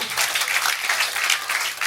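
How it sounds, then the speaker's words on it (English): Brief, dense applause from an audience at a clean comedy and magic show, a close burst of clapping throughout. "Give him a round of applause."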